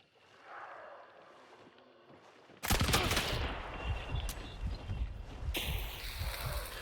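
Weapons fire in Hunt: Showdown erupts suddenly after a quiet, windy stretch, becoming a loud, dense volley of gunshots and crackling impacts that continues to the end.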